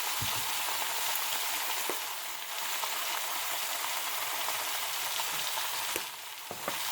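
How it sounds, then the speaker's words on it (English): Pork chops brown in a frying pan with a steady, close sizzle and hiss, broken by a few light clinks of a utensil. "We're going to brown these up on both sides."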